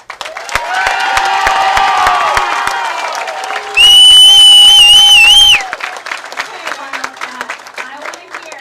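A crowd at a girls' state high school bowling tournament cheers and applauds loudly, with whoops and a piercing whistle cutting through midway, then the noise tapers to scattered claps and shouts.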